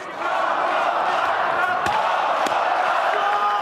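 An arena crowd of fans chanting "Moldova" during a KOK World GP kickboxing bout in a Chisinau athletics hall, a loud continuous roar with a couple of sharp thuds and a commentator talking over it.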